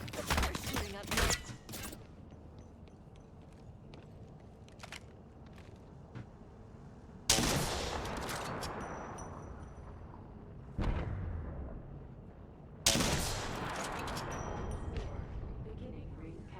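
Gunfire shoots at the player in a video game, with a few loud sharp blasts and bursts standing out against a quieter stretch, while a person talks at times.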